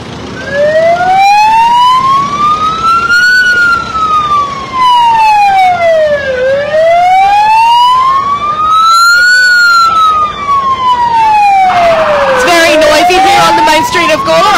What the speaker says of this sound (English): sure you can hear that loud siren in the background